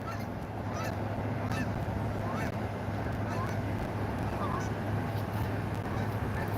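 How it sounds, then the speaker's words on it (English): Geese honking near the Two Harbors iron ore docks in Minnesota while a dog runs around chasing them, several short calls scattered over a steady wind-like background rumble, somewhat distant. "Goldie, she's just running around, seeing if she can catch any geese."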